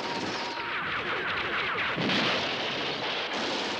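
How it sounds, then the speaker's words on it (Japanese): Rapid gunfire in a battle scene from the mecha anime Sentou Mecha Xabungle, episode 33: dense, continuous bursts of shots and blasts filling the whole stretch, loud and close, with no talking. "あ、まだ撃ってる。"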